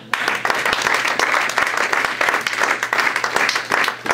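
A church congregation claps and applauds continuously at a worship service, a dense, loud, steady burst of many hands with no speech over it.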